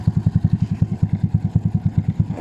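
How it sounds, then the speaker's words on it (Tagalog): Motorcycle with a 196cc square engine (63 bore, 63 stroke), running at a steady idle with an even, rapid thumping exhaust pulse, close up with no voices. "Napakatahimik pa rin naman ang kanyang makina."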